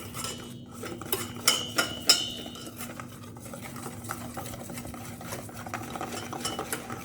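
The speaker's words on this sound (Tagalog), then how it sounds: "At haluin natin syempre." A spoon stirring a little sugar into food in a pot, soft scraping and light metallic clinks against the pan, a few louder knocks early, close and fairly quiet with no speech.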